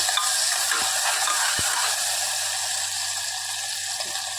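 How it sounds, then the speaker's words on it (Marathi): Chopped onion frying in a pressure cooker pan while being stirred, a steady soft sizzle with occasional scraping clicks of a spoon, close and continuous throughout. "त्यानंतर ह्यामध्ये टाकणार आहोत कांदा कांदा आपल्याला सॉफ्ट करून घ्यायचा आहे"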